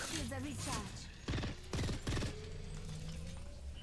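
Gunfire in the Apex Legends video game, three short bursts of rapid automatic shots in quick succession over steady game ambience, with a voice talking at the start.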